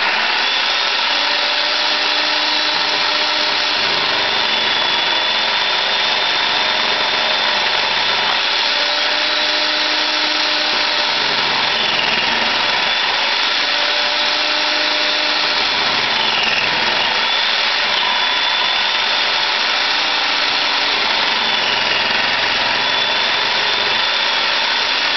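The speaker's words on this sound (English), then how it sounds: "I'm going to put this on the high speed that it'll go to make sure that that blade is rotating fast enough to slice it into the smallest bits" A food processor on high speed shreds homemade laundry soap with its smallest shredding blade: a loud, steady motor whir with grinding and rattling that rises and falls slightly throughout.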